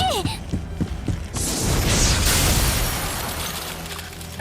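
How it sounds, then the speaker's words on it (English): Ice shattering in the visual novel Tsukihime: A Piece of Blue Glass Moon, a sudden bright crash that bursts out after a few sharp hits and then rings and scatters in a dense wash of debris for several seconds. "I hear the sharp noise of ice shattering behind me."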